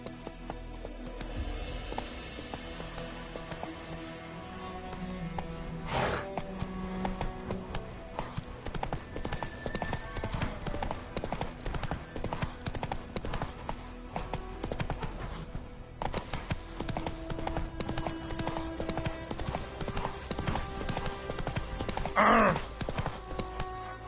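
Roach the horse gallops in The Witcher 3, with steady rhythmic hoofbeats that run throughout, mixed with game music and ambience and a brief whinny near the end.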